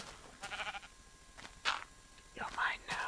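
Sheep bleating in the Minecraft video game, several short bleats spaced across a few seconds, fairly clear against a quiet background.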